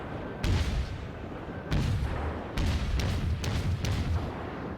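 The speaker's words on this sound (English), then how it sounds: "every other shot pretty much starts a fire" Naval artillery firing in the World of Warships video game, with several heavy booming shots at uneven intervals, some in quick pairs, over a low rumbling background, with no talking.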